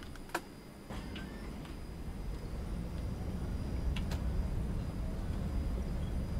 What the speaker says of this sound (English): Is that another tram I can hear?